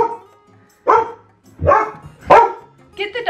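A pet dog barks in three or four sharp separate bursts indoors, close and loud, while a person talks between the barks during a makeup routine.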